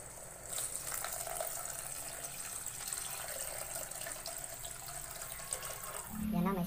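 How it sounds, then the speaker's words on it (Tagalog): Broth poured into a cooking pot of sardines, a continuous splashing and gushing of liquid held steady for several seconds, close by and fairly quiet. "Guys, lagyan natin ng sabaw."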